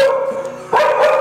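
Dogs bark at a farm house with a courtyard and a mansion-style interior. The barking is fairly loud and close, with a sharper burst partway through, set against a steady tonal background hum.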